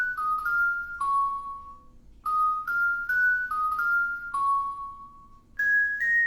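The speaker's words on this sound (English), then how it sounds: "I've changed the bell." A tuned bell from a hip hop trap beat rings out a short repeating melody of clear, bright notes. It plays in phrases separated by brief gaps, fairly quiet and alone, with no drums prominent.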